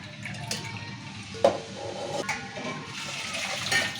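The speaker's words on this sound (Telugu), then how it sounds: "రెండు సార్లు పప్పు మంచిగా కడుక్కొని మూడోసారి నీళ్ళు పోసి పొడి పెట్టుకోవాలి" Lentils (dal) being washed in water in a kitchen, with a steady swishing and sloshing of water and a few sharp splashes and clinks, close and fairly loud.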